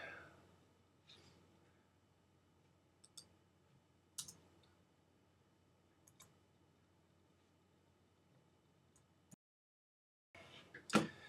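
Sparse, faint mouse clicks in a quiet room while a website is edited, single sharp ticks spaced a second or more apart, with a slightly louder burst of clicking near the end.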